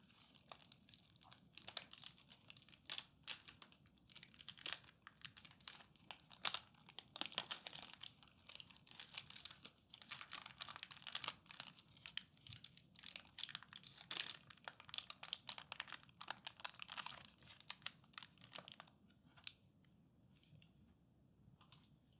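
Crinkly plastic packaging around a massage bar is opened slowly, a close, steady stream of fine crackles and rustles continuing for the whole stretch at a soft level.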